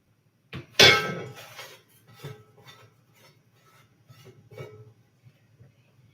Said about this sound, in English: Let me dump out the rest of my pistachio shells because I am just going to use this pan again